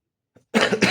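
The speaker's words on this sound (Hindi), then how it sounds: "थोड़ा सा खांसी हो रही है" A single sharp cough bursts out close by after a brief faint sound, followed by a second quick cough.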